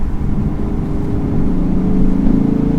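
A 2022 Lexus IS 500 engine and exhaust give a deep, muffled, steady rumble that swells slightly toward the end, heard alone with no talk.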